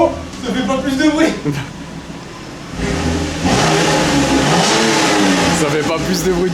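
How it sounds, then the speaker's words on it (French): A Renault Espace V6 of about 250 hp, converted into a race car, revs its engine in rising and falling surges, loud and close, while people talk over it. "Allez, on le descend, on va essayer de démarrer."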